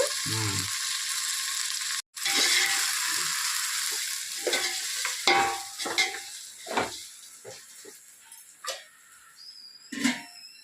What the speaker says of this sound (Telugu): పుదీనా ఇవి చక్కగా ఎర్రగా ఏగిపోవాలండి